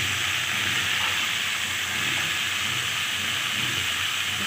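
Moong and potatoes dropped into a hot pan with cumin, giving a loud, dense, steady hiss of sizzling oil that stays even throughout with no talking.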